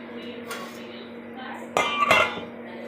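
A plate is set over a bowl to cover a soaking mixture for momos, giving one close ceramic clink followed by a brief rattle, with a voice speaking faintly around it.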